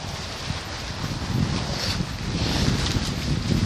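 Strong wind buffets a tent in steady, roaring gusts with microphone rumble and flapping, close and loud with no speech.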